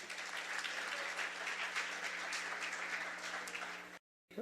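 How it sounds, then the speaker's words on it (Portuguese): Audience applause at the opening session of a union congress, dense continuous clapping from a large indoor crowd that cuts off abruptly near the end. "Salva de palmas para o Luiz"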